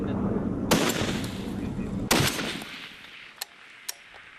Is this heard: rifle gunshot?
yes